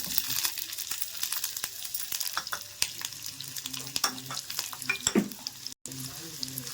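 Onion and oil frying in a pan, a steady sizzling hiss broken by scraping stirs and a brief clatter, close and fairly loud with no talking.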